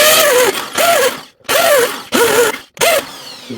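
A power drill deepens screw holes in a bathroom floor during a toilet replacement, four short loud whirring bursts with brief pauses between them, close to the microphone.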